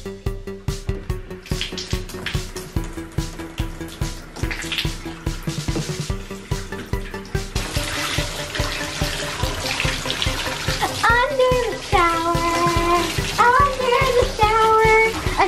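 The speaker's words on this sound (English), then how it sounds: "Now I'm gonna take a nice warm shower." Water runs steadily from a tap for a toy mermaid doll's warm shower, a continuous splashing hiss that grows fuller partway through, with music playing along.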